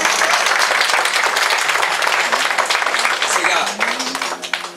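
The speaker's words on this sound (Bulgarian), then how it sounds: "Слава на Бога, нека пляскаме на Господа." A crowd at a church gathering for children in Karadzhovo claps and applauds continuously, a dense roar of hands that tapers slightly at the end, with voices mixed in underneath.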